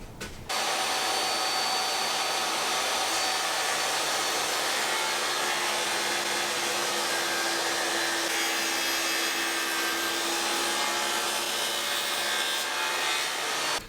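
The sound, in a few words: power tool cutting a dado in a shelf board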